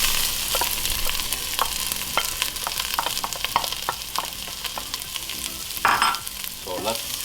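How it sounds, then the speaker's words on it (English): Onion sautés in a pot for Somali fried rice, a steady close sizzle with scattered scraping stir strokes and a brief louder hiss toward the end, no voices. "So let's saute the onion a little bit."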